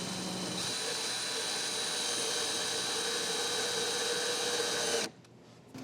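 A power driver sends screws into a bookshelf pilaster with a steady, moderately loud whirring whine for about five seconds, then stops abruptly and leaves quiet room tone.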